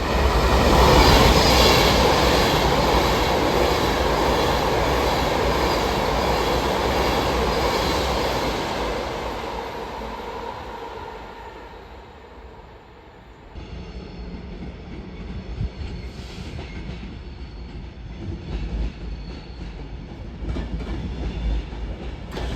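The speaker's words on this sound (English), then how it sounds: "Of course the Pendolino's flying through." A Pendolino train rushes past at speed, a loud rolling roar with high hiss that gradually fades, then gives way to quieter rail rumble and clatter.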